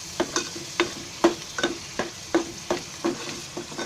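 Masala spices fry in hot oil in a home kitchen, with a spoon stirring and scraping the pan in regular light taps over a soft sizzle.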